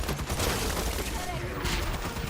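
Bursts of rapid gunfire from the video game Aliens: Fireteam Elite, dense and continuous over a short stretch, with players talking over it.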